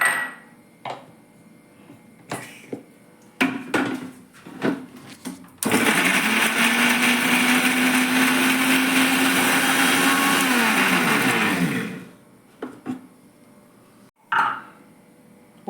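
A kitchen mixie grinds pieces of coconut into powder in a loud, steady whir that runs for about six seconds and then winds down. Scattered clinks and handling knocks come before and after it.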